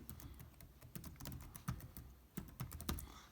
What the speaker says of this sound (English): You can change the file name by simply clicking on it and just typing in the file name